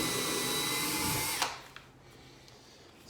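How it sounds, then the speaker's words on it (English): A power drill with a multi-purpose bit whines steadily at close range while drilling holes in a steel door, then stops abruptly, followed by a few soft clicks and a quiet pause. "I'm using a standard multi-purpose drill bit"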